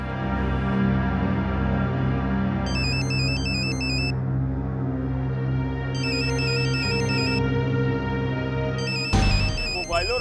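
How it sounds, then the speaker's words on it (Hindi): Mobile phone ringing in bursts of a repeating electronic melody, three separate rings spaced a few seconds apart over a continuous background bed, with a loud thump near the end. "मौका कुमौका जगह बेजगह बचता ही रहता है।"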